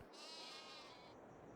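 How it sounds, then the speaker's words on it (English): A sheep in a farming video game lets out a single drawn-out bleat, thin and nasal, followed by a brief sharp click at the end. "Quiet, sheep."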